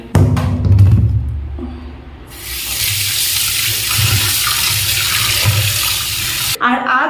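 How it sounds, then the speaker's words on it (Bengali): Tap water runs loudly into a sink or bowl as mutton pieces are rinsed and rubbed by hand in a bungalow kitchen, preceded by brief handling clunks and ending abruptly. "চলুন মাটনগুলো ধুয়ে নিই ভালো করে কচলে কচলে ধুতে হবে"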